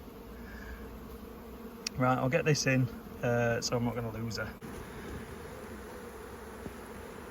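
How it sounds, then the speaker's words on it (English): Honey bees buzz around a full-size hive during a nucleus transfer, a steady insect hum running throughout, with someone speaking close over it for a couple of seconds. "it's a little bit chaotic with flying bees"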